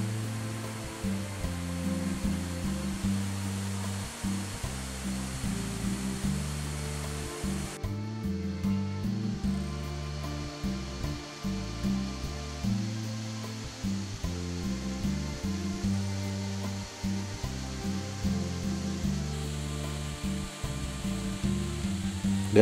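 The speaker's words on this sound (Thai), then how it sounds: "เดินสูงขึ้นมาอีกน้ำตกก็จะกว้างขึ้น" Tad Kuang Si waterfall near Luang Prabang, Laos, rushing steadily in a broad, continuous wash of water noise with no voices, unchanging in level throughout.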